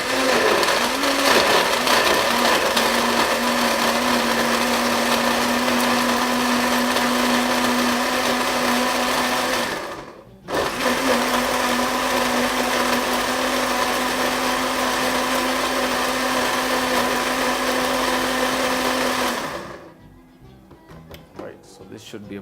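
A blender whirs at high speed through an apple berry detox smoothie, a loud steady drone that stops briefly near the middle, then runs again until it cuts off, leaving a quiet room.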